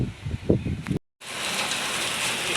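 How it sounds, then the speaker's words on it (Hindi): Heavy rain pouring steadily outdoors near a river, a dense continuous hiss that holds loud and even after a brief cut, with some low rumbling noise before it. "बहुत बारिश हो रही है हमारे पास।"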